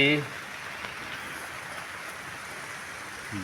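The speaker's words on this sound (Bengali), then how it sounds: "বৃষ্টি, সারাদিন বৃষ্টি, কদিন ধরে চলছে বৃষ্টি।" Steady rain pouring down outdoors on a rainy day, a constant even hiss of drops filling the scene from start to finish after a brief voice at the very beginning.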